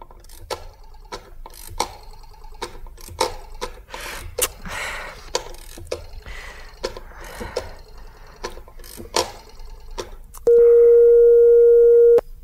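A run of mechanical clicks and rattles, then a steady electronic telephone busy signal drones loudly for a couple of seconds before cutting off.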